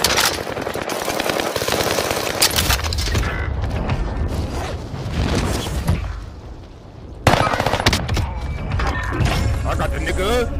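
Video game gunfire in a battle royale shootout, bursts of rapid shots and mechanical clatter mixed with loud excited voices talking over the action.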